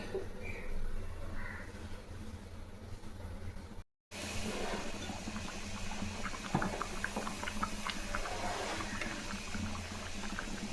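A pot of tomato curry bubbling steadily at a rolling boil, with continuous gurgling and popping, close by, broken by a brief cut partway through.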